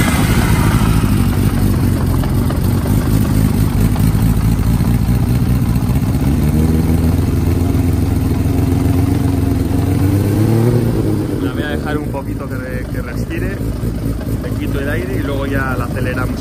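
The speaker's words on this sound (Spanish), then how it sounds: "voy a arrancar la moto" A Honda CBX 1000 six-cylinder café racer motorcycle engine starting and running loud and close, with a deep steady roar and rising revs toward the end while someone speaks over it.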